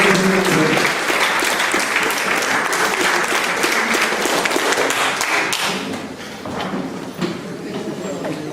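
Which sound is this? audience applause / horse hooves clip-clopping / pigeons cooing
audience applause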